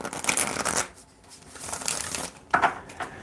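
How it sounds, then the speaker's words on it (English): A deck of playing cards being shuffled, with riffling bursts at the start and another quick shuffle near the end, close and fairly loud with a quiet gap between. "Let's get one more good shuffle."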